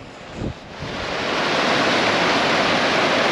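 A river rushes loudly over a submerged crossing on the West Highland Way in Scotland, a constant broadband roar preceded by a brief splash near the start.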